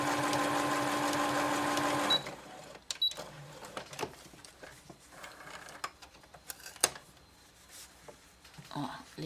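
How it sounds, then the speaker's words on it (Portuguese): A home sewing machine stitches bias binding with a steady, fairly loud mechanical whir for about two seconds, then stops, followed by quiet handling noises and soft speech. "eu trago ela pra máquina e costuro"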